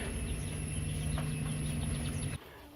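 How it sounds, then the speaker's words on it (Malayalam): Brooding native hens clucking softly amid a steady background hum that cuts off near the end; no talking. "ഇതാ രണ്ട് കോഴികൾ ഇവിടെ ഇരിക്കുന്നത്"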